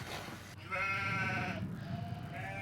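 Goats bleating in a valley where they graze, with several wavering, nasal calls rising over a steady low rumble of outdoor background noise.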